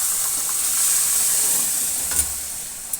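Boiled lentils hit hot spices in a dhaba-style dish, giving a steady, close sizzling hiss that fades slightly, with a couple of brief utensil clinks near the end.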